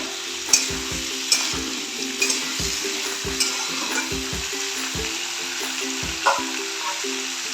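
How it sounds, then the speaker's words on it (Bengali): Winter vegetables fry in a pan with a steady, close sizzle, punctuated by regular metallic spatula clinks and scrapes against the pan as they are stirred. "আরো লাল করে ভাজবো।"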